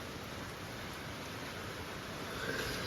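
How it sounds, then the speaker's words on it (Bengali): Heavy rain pours steadily, a dense continuous hiss of drops on surfaces that holds at an even loudness throughout, with no voices over it. "ভালো জোরে বৃষ্টি পড়ছে"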